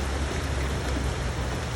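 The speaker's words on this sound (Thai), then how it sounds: "ข้างนอก ฝนตก ฝนตก ทั้งวันนะคะทั้งวันทั้งคืน" Rain falling outside through a cold, windy day, heard as a steady, dense hiss of downpour with no breaks, fairly loud and with no voices over it.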